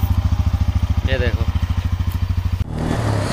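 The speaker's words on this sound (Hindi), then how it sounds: "देख रहे हो पल्सर N160 का जलवा, एक बार में स्टार्ट हो गई अपनी बाइक" A Bajaj Pulsar N160 motorcycle engine idles close by just after starting, a steady loud rapid chugging pulse that stops abruptly near the end, with a brief voice over it.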